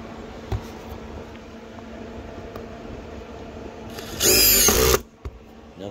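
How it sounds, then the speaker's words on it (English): Dewalt DCF845 impact driver driving a screw, a brief loud burst of rapid impacting lasting under a second, over a steady background hum. "Now the Dewalt, boy, does that drive faster."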